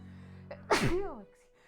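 A single sharp, close sneeze bursts out over a low background hum, followed by a short exhaled tail.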